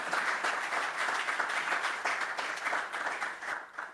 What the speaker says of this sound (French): J'aimerais qu'on les applaudisse une fois de plus.